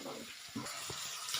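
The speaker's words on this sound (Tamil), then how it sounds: "அதுக்கப்புறம் தண்ணி ஊற்றலாம்." Water pours into a cooking pan of sautéed vegetables and rava for rava brinji, making a soft, steady splash that stays fairly faint throughout.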